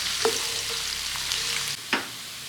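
Onions and bay leaves stir-fried in a pan for a Thai okra curry, with a steady close sizzle under a few scraping strokes of the spatula and one sharper scrape near the end.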